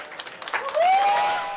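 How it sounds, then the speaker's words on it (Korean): NASA scientists at the Jet Propulsion Laboratory in California cheer and applaud as the Juno probe enters Jupiter orbit, a burst of clapping and crowd noise with a rising whistle-like tone carrying through. "나사의 무인 우주 탐사선 주노호가 목성 궤도에 진입하자 나사 과학자들이 환호하면서 기뻐하는 소리 들으셨는데요"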